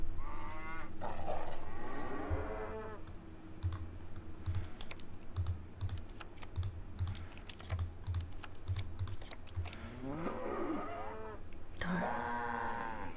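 Cows mooing in a video game, drawn-out moos at the start and again near the end, with a run of rapid keyboard-like clicks filling the middle.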